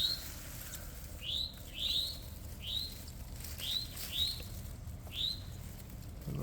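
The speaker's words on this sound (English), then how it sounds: "Little baby, they were chirping." Baby cardinals chirping near a backyard nest: a series of about eight short, bright chirps spaced roughly half a second to a second apart, clear and fairly close over quiet outdoor background.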